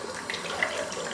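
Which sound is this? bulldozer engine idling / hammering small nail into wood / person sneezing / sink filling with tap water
sink filling with tap water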